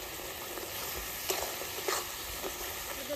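Ground spices, including coriander-cumin and chili powder, fry in oil in a pan with a faint, steady sizzle and a few soft stirring scrapes.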